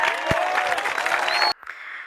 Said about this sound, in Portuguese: Palmas para mim, né?